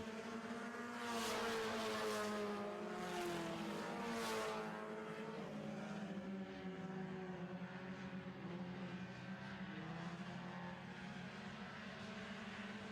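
Four-cylinder stock cars in a heat race circle a track, engines droning loudly and continuously with rising and falling pitch as they pass, a steady pack roar throughout.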